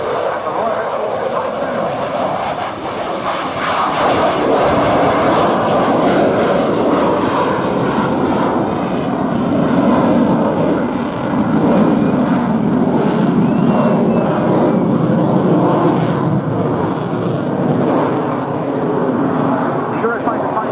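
A Royal Air Force Eurofighter Typhoon fast jet at the RNAS Yeovilton air show produces a continuous loud roaring rumble, with a commentator talking over it throughout.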